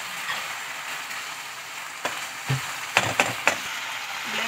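Salted chicken mixture is stirred and mixed in a pan over a soft background frying hiss, with several sharp spatula clicks and scrapes clustering near the end, close and fairly loud.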